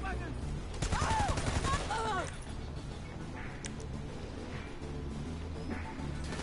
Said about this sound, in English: He shot me with a shotgun.